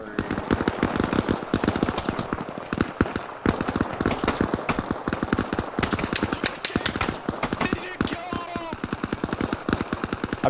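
Rifles fire in rapid, continuous bursts during a night-time urban militia firefight in Arma Reforger, sharp close cracks overlapping one another with only brief pauses.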